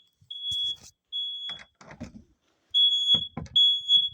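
A smoke or fire alarm in student housing sounds loud, piercing high-pitched beeps in repeated long tones. Several people talk in the pauses between them.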